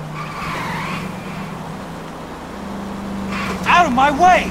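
Several cars chase and skid in the video game L.A. Noire, an engine humming under a faint tire whine before sharp, wavering tire squeals near the end.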